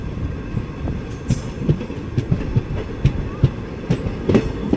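Diesel-hauled Madurai–Guruvayur Express rolling over points, with loud, close, irregular clickety-clack wheel knocks over a steady rumble and brief faint squeals, no talk.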